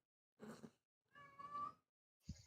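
A cat meows twice indoors, two separate drawn-out cries with a pause between them, followed by the start of a third short sound, heard close and clear against silence.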